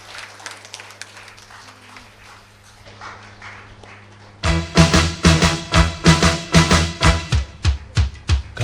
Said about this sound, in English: we all put our hands together and give a big applause